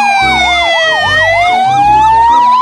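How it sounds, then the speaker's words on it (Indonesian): A loud, electronic siren from a toy ambulance car wails up and down, with a chunky pulsing beat underneath. "di sini ada mobil ambulan"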